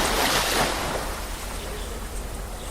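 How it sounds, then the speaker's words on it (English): Ocean waves wash and break with a broad, steady roar heard from a boat at sea, mixed with wind buffeting, fairly soft and continuous with no distinct individual crashes. "Hey, see the waves, Musa."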